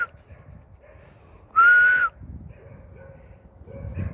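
A single short, steady human whistle rings out clearly for about half a second over quiet outdoor background noise.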